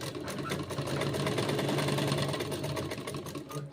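A sewing machine stitches fabric for a suit, running steadily and close with a continuous rhythmic mechanical whirr and hum.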